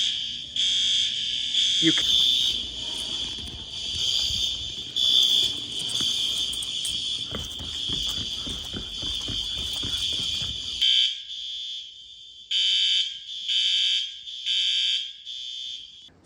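A high school fire alarm system sounds with unsynchronized horns, loud pulsing tones overlapping out of step, while people talk nearby and background noise rumbles under the first stretch, then the alarm continues alone in choppy bursts.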